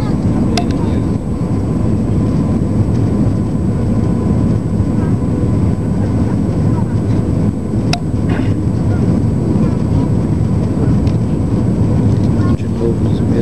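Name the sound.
airplane on landing approach at Pampulha airport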